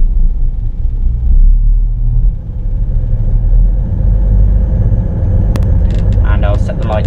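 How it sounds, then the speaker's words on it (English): A CrossCountry Class 221 Super Voyager diesel engine starts up in Train Simulator 2018, a loud, steady low rumble that runs throughout, with brief clicks and a faint alert tone near the end. "There we are, and start the engine."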